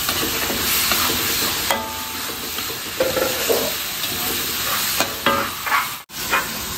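Diced tempe, sausage and meatballs being stir-fried in a pan, with a steady loud sizzle and repeated scraping stirs of the spatula throughout.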